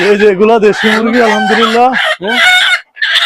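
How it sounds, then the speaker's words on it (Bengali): Native desi chickens on a poultry and livestock farm crow and cluck loudly and close up, with long harmonic crows following one another almost without pause. "দেশি মুরগি"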